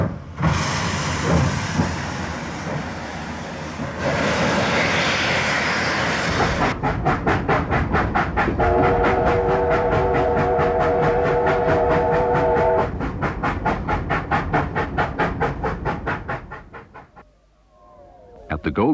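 Steam locomotive 3801 hauling a train along the line, with rapid rhythmic chuffing and clatter, a sustained whistle-like tone in the middle, then the sound fades away near the end.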